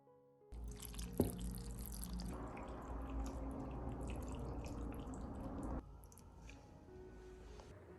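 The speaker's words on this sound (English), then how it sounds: "immediately pour the boiling hot brine over the tomatoes until the jar is completely full" Boiling hot brine pours steadily over tomatoes into a jar for several seconds, a continuous gurgling flow that then quiets to a softer trickle.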